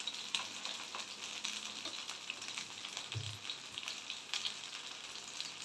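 Fish sizzling steadily in hot oil in a pan, a constant bright crackle with a brief low bump partway through, no voices.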